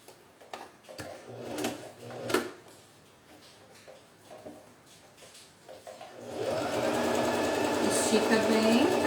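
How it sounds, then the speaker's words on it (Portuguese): A sewing machine runs a seam along the bottom of a fabric pouch, catching a small mesh panel, starting with scattered clicks and handling noises before a steady whirring stitch run takes over. "eu vou passar uma costura só aqui no fundo, prendendo a minha telinha aqui no fim"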